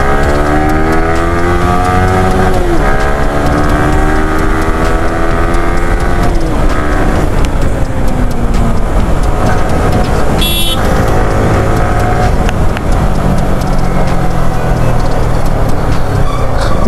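Yamaha R15 V3 motorcycle overtaking on a road in Kangra, Himachal, its engine rising and falling in pitch continuously and close, with a brief horn toot partway through amid steady traffic and wind noise.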